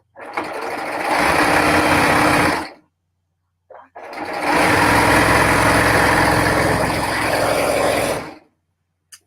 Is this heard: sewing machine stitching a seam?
yes